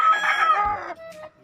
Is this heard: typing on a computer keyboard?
no